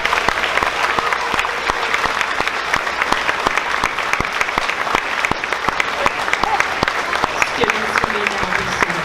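An audience claps for graduating sixth-grade students at a school ceremony, a dense, even applause of many hands sustained for about nine seconds without letup.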